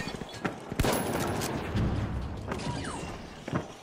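Rapid gunfire in The Finals, shots from a Model 1887 lever-action shotgun among others, with sharp bursts and clattering impacts over a dense, noisy firefight, loud and close throughout.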